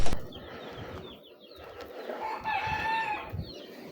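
Cochin roosters crow and cluck in a garden, several drawn-out calls and short clucks close by, with a sharp knock at the start and a quiet outdoor background.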